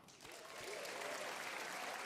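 A live studio audience at a folk music show breaks into applause that swells within half a second and holds as a steady, moderately distant clatter of many hands.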